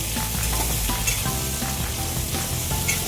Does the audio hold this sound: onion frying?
yes